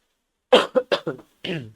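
A run of five sharp coughs close by, four in quick succession, then a brief pause before a final longer, rougher cough.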